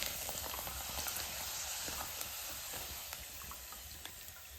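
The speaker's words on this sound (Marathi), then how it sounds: "दुसरा पण पापड अशाच पद्धतीने आपण तळून घेऊ." Sago and potato papad frying in hot oil, a steady close sizzle and crackle with faint pops, no talking.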